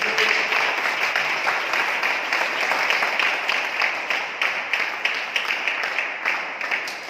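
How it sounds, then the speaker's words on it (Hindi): Congregation clapping loudly in thanks during a Hindi church prayer service, a sustained, dense round of applause that carries on evenly for several seconds with a few louder individual claps near the end. "हम जोरदार तालियों से परमेश्वर को धन्यवाद दें"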